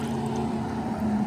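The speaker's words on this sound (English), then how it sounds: "sorry for that traffic going by" A passing vehicle's engine drones as a low, steady rumble with a faint humming tone, holding at a moderate level throughout.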